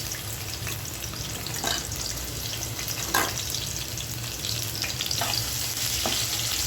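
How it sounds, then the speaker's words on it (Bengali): Oil sizzles steadily as onions fry toward brown in a pan, a constant close hiss with a few louder crackles and spits now and then. "পেঁয়াজটাকে একটু ব্রাউন করে ভেজে নেব।"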